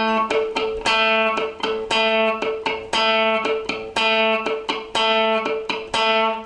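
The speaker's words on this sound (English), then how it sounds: "use the plectrum to pluck down on the note" Funk guitar picked with a plectrum in a fast down, down-up pattern, muted dead notes alternating with short ringing chords, steady rhythmic strums played alone and close with no talking.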